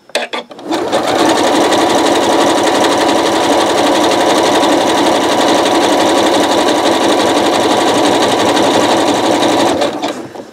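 A sewing machine stitches a coiled rope bowl, running as a loud, steady, close mechanical whir that continues unbroken for about nine seconds before stopping, with no talking.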